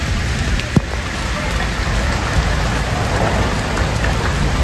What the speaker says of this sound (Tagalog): Ulan na, it's ulan.